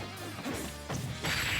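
A forward smash attack landing in a Smash Bros. match, a sharp crashing whack amid game effects, followed by a louder, brighter impact near the end, no voices.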